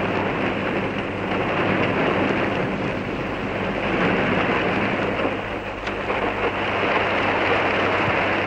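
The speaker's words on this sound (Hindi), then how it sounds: "इतनी बारिश में" Heavy rain pours steadily, a dense unbroken hiss that stays loud and even from start to finish.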